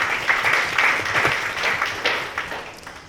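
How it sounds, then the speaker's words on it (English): Retreat attendees give a round of applause, a full room of hands clapping with distinct sharp claps standing out from the dense wash. The clapping swells early and gradually thins toward the end. "Please give them a big round of applause."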